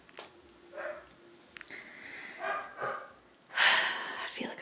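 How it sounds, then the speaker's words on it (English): Several short dog barks and huffs, moderately close, scattered across a few seconds with quiet gaps between them. "Sorry, the dog's barking."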